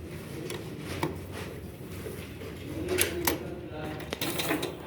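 A sewing machine stitching a dhoti salwar, its rapid mechanical clatter coming in short bursts underneath someone talking nearby.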